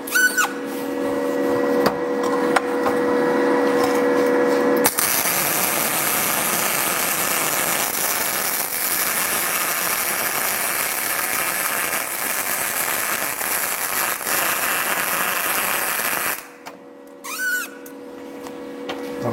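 MIG welding on tacked sheet metal produces a loud, steady crackling buzz lasting about eleven seconds, beginning and ending abruptly, with quieter workshop hum before and after.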